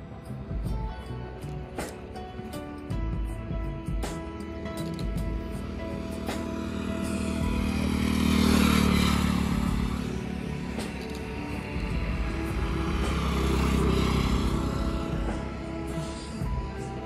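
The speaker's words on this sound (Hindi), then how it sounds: "अभी जैसे एक बाइक आ रही है" A motorcycle on a public road approaches and rumbles past, its engine swelling to a peak midway then fading, with a second rise later, over steady outdoor traffic noise.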